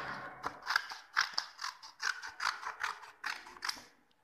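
Scissors snip through coloured paper strips in a quiet room, about a dozen short crisp cuts in an uneven rhythm, close and fairly soft, with no talking.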